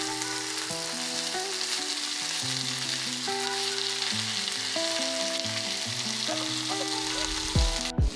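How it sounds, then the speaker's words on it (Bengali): Onion paste and chopped tomato fry in hot mustard oil with green chillies, giving a steady close sizzle under gentle stirring, with background music playing over it. "এবার একে একে পেঁয়াজ বাটা টমেটো কুচি অ্যাড করব। এবার এগুলোকে হালকা করে নাড়াচাড়া করে নেব।"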